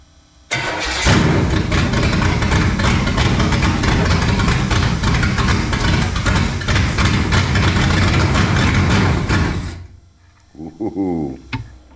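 Rebuilt Chevy 350 Vortec V8 cranks and catches, then roars loudly and steadily for about nine seconds before cutting off abruptly, followed by a brief voice.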